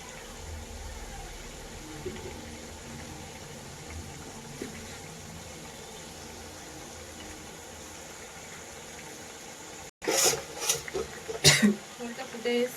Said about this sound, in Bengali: জলটা ফুটে এসছে, ফুটছে জলটা